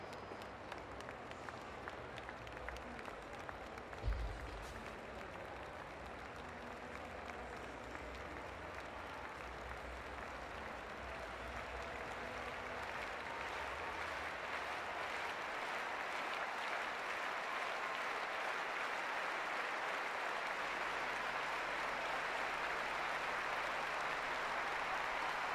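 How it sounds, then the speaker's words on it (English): Stadium crowd applause at the London 2012 Paralympic Games athletics, from the east stand during the long jump, a distant broad wash of clapping and crowd noise that gradually swells louder over the stretch. "Applause over on the east stand for the long jump competition."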